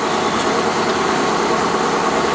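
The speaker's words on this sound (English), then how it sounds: "Does that air compressor have to be so loud?" A loud, constant mechanical drone of an air compressor running nearby, steady and unbroken from start to finish.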